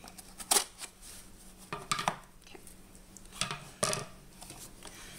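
A knife cuts open a cardboard art supply subscription box: a few sharp, quiet scraping and slicing bursts spaced a second or two apart, close by, with no talking.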